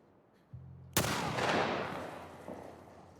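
A single loud, sharp gunshot cracks out in The Last of Us Part I, its blast decaying into a long rumbling tail, with a faint click just before it and a softer thump near the end.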